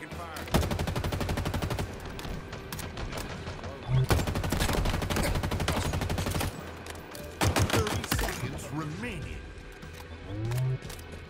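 Automatic gunfire in a Halo Infinite capture-the-flag match: loud, rapid bursts of shots in several long volleys with brief gaps, mixed with game effects and talking.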